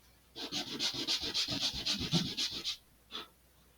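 Sandpaper rubbing burrs off a laser-cut wooden rocket part makes rapid rhythmic scratchy strokes for about two seconds, close and fairly loud, then one last short stroke after a pause.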